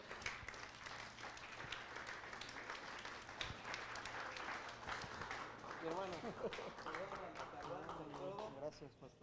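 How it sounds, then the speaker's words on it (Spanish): Church congregation applause during a service, steady clapping running through the whole stretch at low level, with a voice speaking over it toward the end. "denle un aplauso, por favor"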